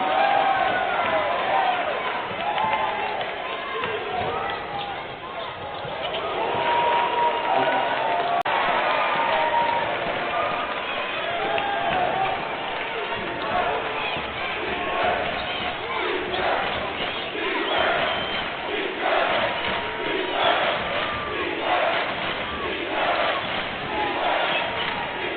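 A college basketball arena crowd at a Grand Canyon game roars steadily after a made three-pointer, loud and sustained cheering throughout, with an announcer's voice running over the noise.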